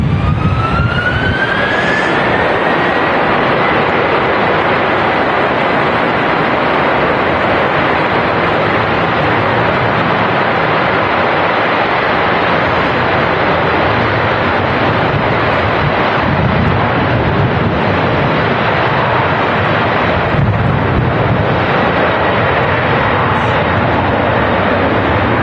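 An Aer Lingus airliner departs Manchester Airport with a loud, continuous jet-engine roar that fills the whole stretch and holds steady without fading.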